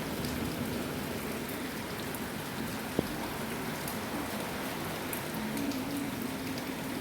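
Steady rain falling continuously on a surface, an even hiss with no pauses and one brief sharp knock partway through.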